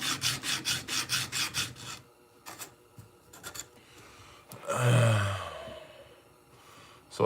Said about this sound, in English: Lots of hand sanding.